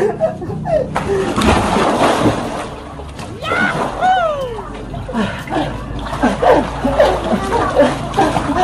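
Water splashes as someone plunges into a swimming pool, a run of close, messy sloshes mixed with excited voices and laughter throughout.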